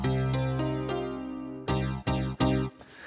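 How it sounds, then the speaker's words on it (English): An old-school sampled Mr. M piano from the Ableton library plays a chord stab in short, repeated hits, each with a bright attack and quick decay, alone and clear. "which is called a Mr. M piano, which is for free in the Ableton library"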